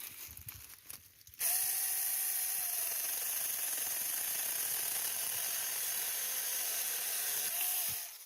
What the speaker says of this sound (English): I'm loving this chainsaw.